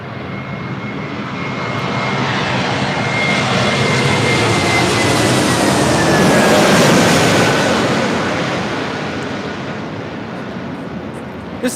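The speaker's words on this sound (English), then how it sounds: "This is Delta Airlines 1358 coming in from Seattle on an A321neo." A Delta Airlines Airbus A321neo arriving from Seattle at LAX passes with a loud, rising jet roar and a sliding engine whine that peaks mid-pass, then fades slightly as it moves off.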